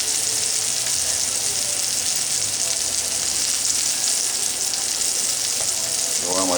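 Tuna steaks sear in a hot pan with a steady, dense sizzle and crackle that runs unbroken from start to finish, close and fairly loud.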